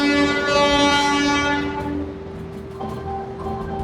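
A train horn sounds at Secunderabad railway station, a loud sustained blast that fades over a couple of seconds into low station rumble and rail noise.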